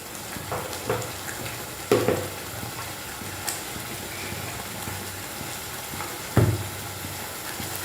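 Chole masala spices with red chilli powder, garam masala and turmeric fry on a low flame, giving a soft steady sizzle with a few brief stirring scrapes and clinks, fairly quiet and with no talk.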